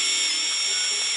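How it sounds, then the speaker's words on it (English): Surgical drill boring into ribs during an alien operation in the Surgeon Simulator video game, a steady high-pitched whine held loud and unbroken throughout. "Okay, drill right here."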